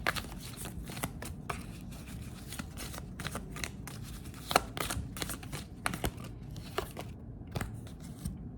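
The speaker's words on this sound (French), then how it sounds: "je vais prendre quelques cartes pour vous donner des messages" Tarot cards shuffled by hand, close and crisp, a continuous run of quick riffling and sliding snaps with sharper flicks every second or so throughout.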